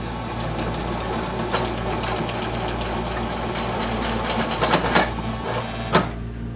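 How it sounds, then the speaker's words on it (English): Domestic sewing machine stitching vinyl for a clutch wallet, running a second parallel stitch line: a steady rapid mechanical chatter, close and loud, with a few sharper clicks near the end and no talk. "I'm just gonna run another stitch line that's like a quarter of an inch away from the first stitch line I did"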